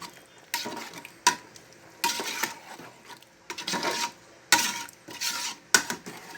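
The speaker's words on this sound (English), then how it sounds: "Turn it around very very well, and then allow the fish and every other thing to boil together" A spoon stirs egusi soup with fish in a pot, giving repeated scraping and clinking strokes in an irregular rhythm of short bursts and brief gaps, close and fairly loud.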